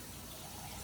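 Water pours into a cooking pot, making a faint, steady rushing trickle with no pauses.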